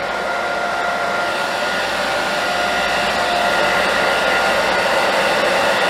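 A hair dryer blows steadily while drying hair during a crown layer haircut in a cosmetology class, a loud, continuous whooshing roar that holds even for the whole stretch with no talking.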